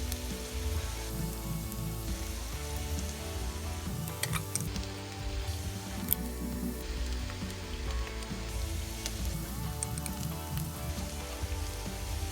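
Onions frying in a pan while goat meat pilau is cooked, giving a steady, soft sizzle with scattered crackles and ticks. It runs continuously for about twelve seconds, close and quiet, with no voices.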